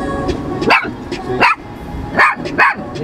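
A small dog barks four times in sharp, evenly spaced yaps, close and loud against a steady low background hum.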